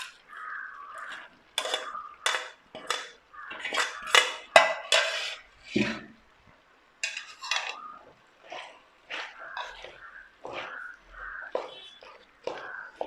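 A utensil scrapes and clanks inside a pot as Kerala-style tapioca (kappa) biryani is mixed, with irregular stirring strokes; a voice speaks softly at times.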